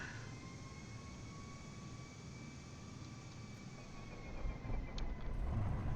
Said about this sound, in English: This is actually a plane taking off right now.